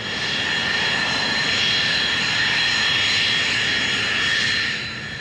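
Aircraft engines powering up for takeoff roar loud and steady from start to finish, a broad continuous drone with a faint high whine, easing slightly at the very end.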